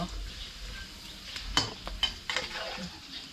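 Pork cracklings fry in a pan, a soft sizzle beneath a few sharp clinks and scrapes of a utensil against the cookware.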